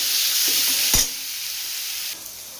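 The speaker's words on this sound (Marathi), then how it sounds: "आता हे छान हे वाटण आपल्याला तेलावरती परतायचं आहे" Salted ground spice paste fries in oil while being stirred, a loud, close hiss that drops abruptly after one sharp scrape, then continues as a quieter sizzle with another dip near the end.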